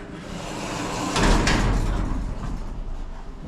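An old elevator in a small Soho Road mall squeaks and rumbles as it moves, a broad scraping, grinding sound that swells then carries on steadily without talk.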